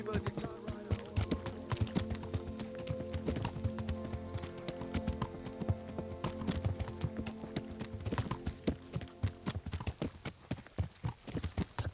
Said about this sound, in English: Stay away from people if you can't ride a horse.